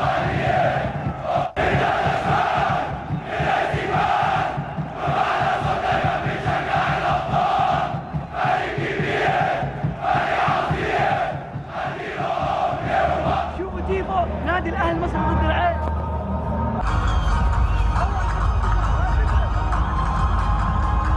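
Al Ahly football supporters at Cairo Stadium chant together in a loud, rhythmic roar, with pulsing repeated phrases filling the stands, then shift into a denser swell of crowd noise near the end.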